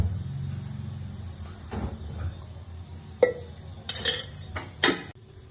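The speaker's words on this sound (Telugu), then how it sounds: "ఇప్పుడైతే కడాయి పెట్టుకొని డీప్ ఫ్రైకి సరిపడా ఆయిల్ వేసుకోవాలి." A metal kadai set down on a kitchen stove and oil poured in for deep frying corn vadas, with a low background hum and a few clear metallic clinks and knocks of cookware near the end.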